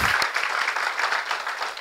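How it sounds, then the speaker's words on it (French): A church congregation applauds during a sermon, a brief burst of dense, fairly soft clapping heard throughout. "On peut applaudir le Seigneur."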